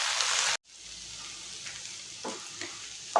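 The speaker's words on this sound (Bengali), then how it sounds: "আমি চিচিঙ্গেটাও এর সঙ্গে এখন অ্যাড করে দেবো, ভালো করে মিক্স করবো এটাকে।" Snake gourd fries in a pan of hot oil, an intense sizzle that cuts off suddenly, then a softer steady frying with a few scraping stirs as the pieces are mixed.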